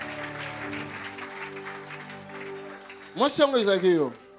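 Congregation at a French-language church service bursting into applause after a stretch of continuous speech, a short loud clapping burst near the end.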